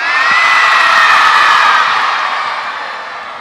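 A loud crowd of Sunday school children cheers and shouts together at a Christmas celebration in a church, a sustained bright roar that peaks early and slowly fades.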